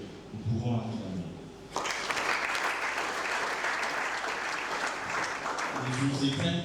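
Audience at an anniversary colloquium bursts into sustained applause for African delegations, a dense steady wash of clapping after a brief stretch of talk, continuing under a voice toward the end.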